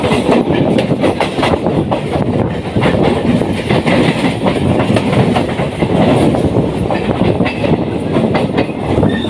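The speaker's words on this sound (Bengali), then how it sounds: "এবার দিয়ে এক্সপ্রেস ট্রেন যাচ্ছে" An express train passes close by near Santragachi station heading toward Howrah. Its wheels give a loud, continuous rumble and clatter with a steady clickety-clack that lasts throughout.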